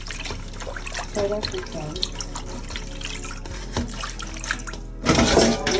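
Running water rinses out a cooking pot at a sink, with a continuous splashing flow, drips and a louder gush near the end, while a person talks briefly over it.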